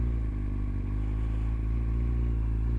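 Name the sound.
Kawasaki Z1000 motorcycle engine at higher revs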